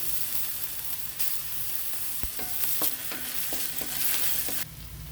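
Onions and ginger-garlic paste fry in a pan for shavige pulav, a soft steady sizzle broken by scattered clicks and scrapes of a spoon stirring.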